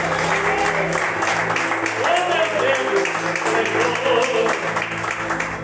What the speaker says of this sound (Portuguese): Aplaude o nome de Jesus